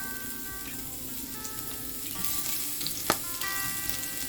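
Onion dropped into hot oil and frying in a pan, a steady close sizzle with a faint hum and a single sharp clack of a utensil, no talk.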